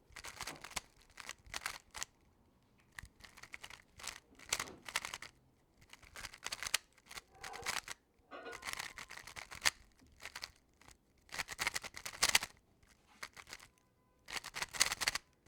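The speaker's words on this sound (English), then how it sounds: "The turning is incredibly buttery smooth," A GAN 15 Black speed cube being turned rapidly, producing quick bursts of soft clicking and plastic rattling in short clusters separated by brief pauses, faint and close with no voices.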